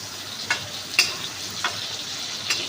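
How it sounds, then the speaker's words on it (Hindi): Pointed gourd (parwal) softened with salt frying in a pan, giving a steady faint sizzle with a few light stirring clicks spaced through it. "यहाँ देखिए परवल भून चुका है"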